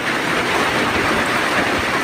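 Steady rain falls in rural Thai countryside near Ubon Ratchathani, a dense, continuous hiss of drops with no pauses and no voices, filling the whole moment at an even level.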